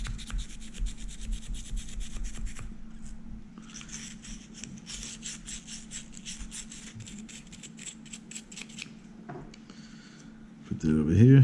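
A wire brush scrubs gunk and buildup from a Ruger 10/22 rifle magazine in quick, close rasping strokes for about ten seconds, ending in a brief louder clatter.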